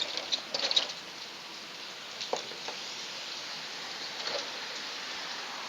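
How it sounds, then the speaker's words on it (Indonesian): Steady rain patters on a surface, a constant hiss of fine drops with a few louder taps, moderately distant and unbroken throughout. "Wilayah saya lagi hujan sudah ada 3 jam yang lalu ini."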